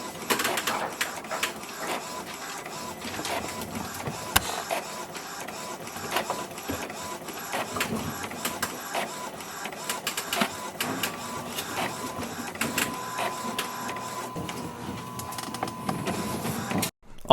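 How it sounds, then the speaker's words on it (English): A printer runs a sheet of cardstock paper, its mechanism whirring, clicking and ticking continuously at moderate volume up close, with no talking. "at this point you should be printing on cardstock paper"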